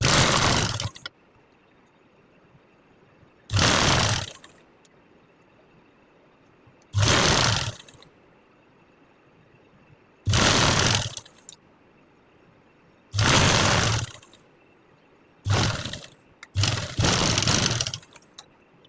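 Sewing machine stitching stretched elastic onto a baby girl's frock with a long stitch length, running in six loud bursts of a few seconds each, separated by quiet pauses.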